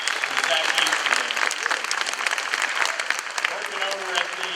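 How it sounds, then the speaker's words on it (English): An audience applauds at a Navy roll call ceremony at NAS Fort Worth, with dense, steady clapping that carries on for several seconds alongside some crowd voices. "How about a round of applause for Zach Easterling?"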